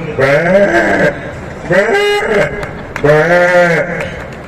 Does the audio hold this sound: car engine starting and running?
no